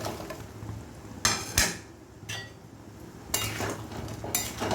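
Fried lentil fritters are stirred in a pot of boiling mustard curry, with a soft bubbling simmer underneath and several brief scraping, clinking strokes of a spoon against the pot, fairly close.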